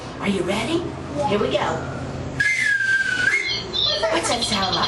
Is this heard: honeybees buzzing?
no